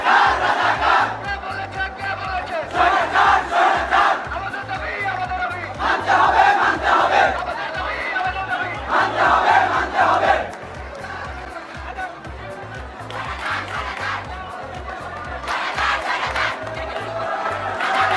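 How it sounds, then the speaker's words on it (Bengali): A crowd of protesters and students at a demonstration chants slogans in loud, rhythmic call-and-response bursts that repeat over steady drumming. "ওমর অন ফায়ার আন্দোলনে গিয়ে ছাত্রদের সাথে কি কি স্লোগান দিছিল"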